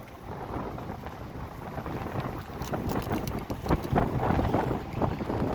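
A sandstorm's wind roars across a desert highway between Riyadh and Haradh, buffeting the vehicle and microphone with a loud, continuous rushing that swells and gusts in strength.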